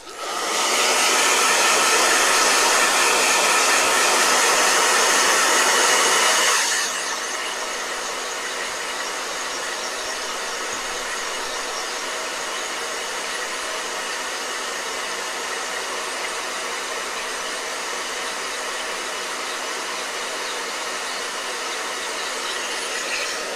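A blow dryer whirs loudly for several seconds, then drops to a lower, steady hum that continues unbroken for the rest of the clip.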